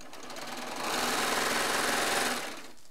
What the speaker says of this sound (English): I'm just having the cutting blade on the serger